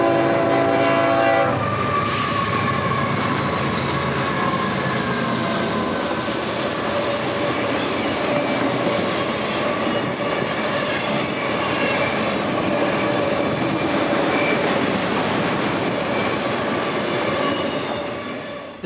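Intermodal freight train I-025 rolls past at track speed, opening with a brief horn blast, then a loud, steady roar of wheels and cars with rail squeal, fading slightly at the end.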